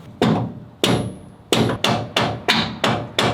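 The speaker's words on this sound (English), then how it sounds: "We need to beat this pin out." Seven sharp, loud metal hammer blows drive a pin out of a leaf spring bushing on a 1996 Nissan D21 hardbody pickup. They land at a steady rhythm close by, each ringing briefly, with no talk.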